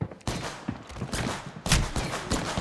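Bursts of gunfire in the Apex Legends video game, several loud sharp shots in quick succession with a heavier burst near the end.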